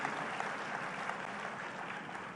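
Audience at a women's self-help group orientation and dialogue event in India claps steadily and densely, a sustained wash of applause with no talk over it.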